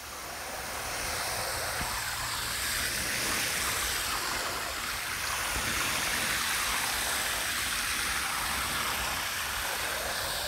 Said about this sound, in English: Takes a while to fill a big tub.